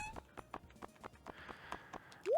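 Horse hooves clip-clop in Stardew Valley, a run of about a dozen soft, evenly spaced hoofbeats at low volume, ending in a brief rising electronic chirp.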